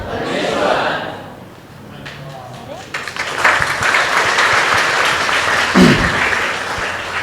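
A church congregation breaks into applause, a dense wash of clapping that swells and lingers for several seconds, with a few faint chuckles and scattered voices mixed in.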